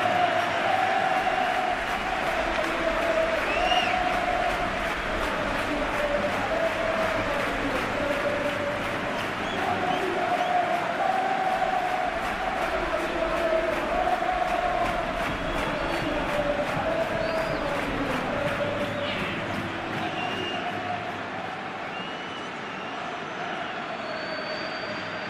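A packed stadium crowd at Anfield roars in a PES football video game, a continuous loud wash of cheering and chanting with sustained tonal voices throughout, easing slightly toward the end.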